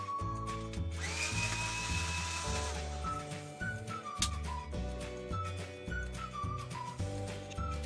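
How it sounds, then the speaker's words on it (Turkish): A power drill whines at high pitch, revving up and down in short bursts while it bores into iron, with some grinding. "Buradaki demiri delmesi."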